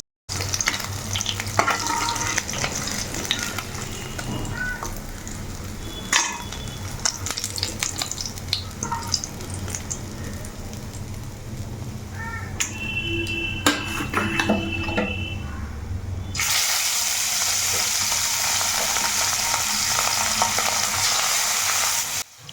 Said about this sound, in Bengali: এইবার দেখো মাছগুলো দেখে বুঝতেই পারছো কি সুন্দর ভাজা হচ্ছে